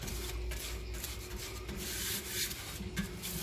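Dirt is rubbed off a 1957 Ferguson 35 TVO tractor in repeated short scrubbing strokes, a close, quiet, dry rasping rhythm with no talk.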